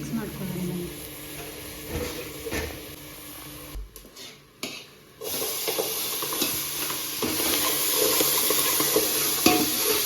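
Pasta being stirred and mixed in a pot with a sizzling, frying hiss, with scraping stir strokes that pause briefly midway before continuing steadily; a voice speaks in places.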